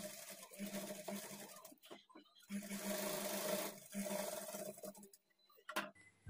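A sewing machine stitching blouse cloth, running in steady whirring bursts with brief pauses between seams, fairly faint and close.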